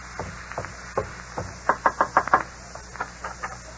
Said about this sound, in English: You wait here while I go knock.